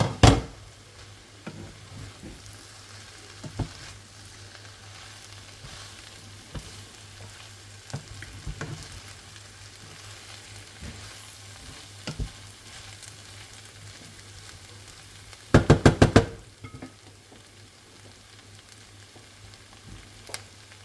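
Beef and fried rice are stir-fried in a pan with a steady sizzle and scattered knocks and scrapes of the utensil, and a burst of louder clatter partway through.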